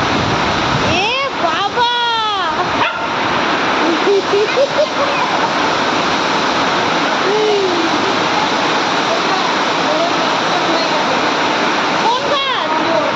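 Heavy rain falling steadily outdoors in a strong wind, a loud continuous wash of noise throughout, with people talking briefly over it near the start and end.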